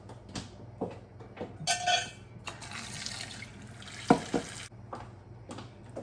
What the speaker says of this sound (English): Now I'm going to fill it up with water.